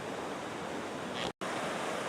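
Creek water rushes steadily across a flood-damaged road, a loud, even roar of flow broken by a brief dropout, with no voices.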